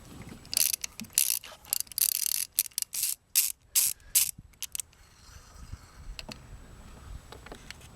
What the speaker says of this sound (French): je vais commencer à dévisser les bougies usagées